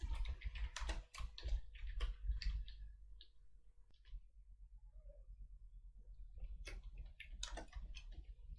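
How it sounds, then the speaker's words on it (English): Typing names on a computer keyboard, a run of close, quick key clicks in bursts with a quieter pause in the middle before the tapping picks up again. "let's type in some names"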